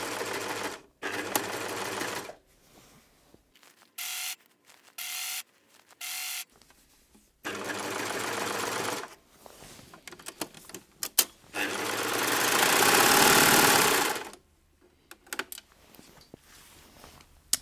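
Three-thread overlocker serging fabric fitted with a zip and piping, several loud rapid whirring bursts of stitching separated by pauses, the longest run near the end, with no talk.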